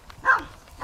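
A single short bark from a dog out ratting, sharp and fairly close, set against a quiet background.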